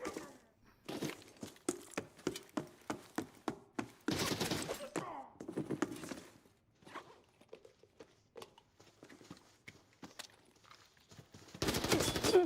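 Gunfire in the video game Arena Breakout Infinite comes in scattered sharp bursts and single shots, loud and close, with quieter gaps and shuffling movement sounds between them.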